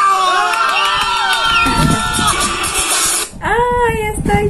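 A crowd at a live event cheers, whoops and shouts excitedly, with bursts of high voices over a dense, loud roar that briefly dips and then swells again.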